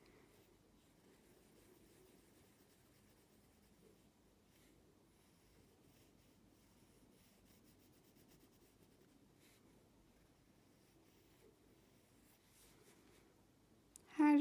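Faint scratching of a pencil or pen coloring in a drawing of rumi motifs, a soft, close, continuous rubbing that ends with a sudden louder knock.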